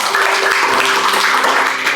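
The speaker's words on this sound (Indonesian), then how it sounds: "Maka berikan tepuk tangan." Congregation applauding during a Sunday church service, a dense steady wash of clapping that fills the whole stretch at an even, fairly loud level with no talk over it.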